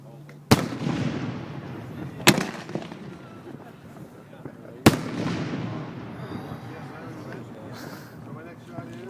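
Three sharp, loud salute firework blasts go off a couple of seconds apart, each booming and then decaying into a rumbling echo.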